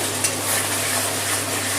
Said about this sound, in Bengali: টক দইটা দিয়ে ভালো করে কষিয়ে নেব